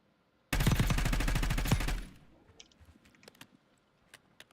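Close, loud automatic fire from an XM4 rifle in the video game Call of Duty Warzone, one rapid sustained burst of about a second and a half, followed by faint scattered clicks and distant pops.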